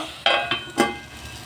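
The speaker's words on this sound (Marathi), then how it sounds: "आता यावर आपण झाकण देणार आहोत" Metal lid set onto a pan of cooking dill greens, three short clinks in quick succession, close and moderately loud over a faint kitchen hiss.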